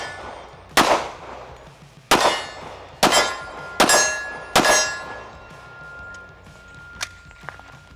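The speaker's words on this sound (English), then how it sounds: "So, very reliable gun, very fun gun to shoot." An FN Herstal FNX 45 pistol fires five sharp shots at small steel silhouette targets at an outdoor range, each crack followed by a ringing metallic clang, with two fainter pings of steel near the end.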